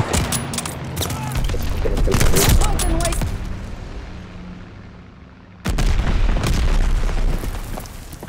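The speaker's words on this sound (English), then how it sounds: "bombers inbound" Heavy explosions rumble during a bombing run in Call of Duty: Vanguard, with several loud booms, rolling rumbles that fade out, then another blast and more concussive impacts close by. A voice speaks over them.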